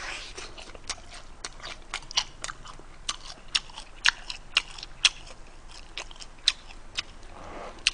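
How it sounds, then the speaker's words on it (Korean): Close, crisp crunching from bites into the rib section of BHC Bburinkle fried chicken, with sharp, irregular crackles repeating steadily and nobody speaking. "갈비뼈 부분부터 한번 먹어보도록 할게요."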